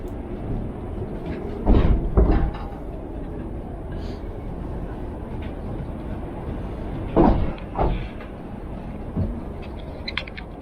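The Aberystwyth electric funicular cliff railway car climbs its track with a steady low rumble, punctuated by a few louder clunks and rattles, as a second car passes on the separate track; faint voices mix in.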